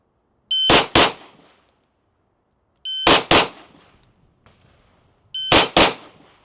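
Handgun fired in quick bursts at a shooting range, three pairs of sharp, loud cracks spaced about two and a half seconds apart, each pair fired back to back with a short ringing decay and silence between.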